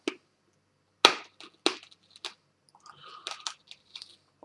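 Hard Puccho ball soda candy crunched between the teeth, a few sharp, close cracking bites with scattered smaller crunches and mouth sounds in between, no talking.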